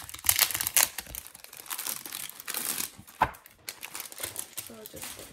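Plastic packaging around a Happy Planner classic-size planner crinkles and tears as it is opened, a loud, irregular run of rustling bursts near the microphone, with someone talking briefly over it.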